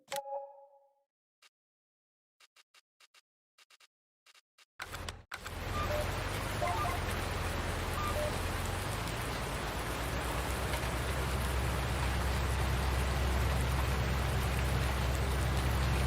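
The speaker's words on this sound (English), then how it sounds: "it started raining as soon as we started seeding." Rain in Farming Simulator 19 begins abruptly after several seconds of near silence with scattered ticks, then becomes a steady, dense hiss of rainfall with a low rumble beneath, continuing to the end.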